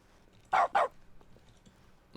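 In The Stanley Parable video game, a dog gives two quick, loud barks in close succession over a quiet backdrop, with a faint sound stirring near the end.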